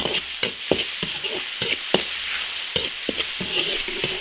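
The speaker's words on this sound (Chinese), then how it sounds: "大蒜、青红椒、洋葱丁炒香" Garlic, green and red peppers, diced onion, dried chilies and Sichuan pepper are stir-fried in an iron wok, with a constant sizzle broken by sharp, regular spatula scrapes and clanks against the metal, close up and without talk.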